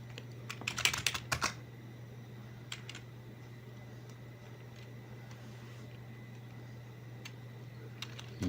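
A computer keyboard takes a short flurry of quick, close keystrokes near the start, followed by a few scattered single taps over a steady low hum.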